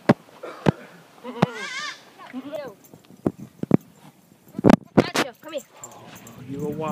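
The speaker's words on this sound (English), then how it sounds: "Oh, hello, little baby goat." A newborn baby goat gives several short, wavering bleats up close, among scattered knocks and shuffling, with people talking nearby.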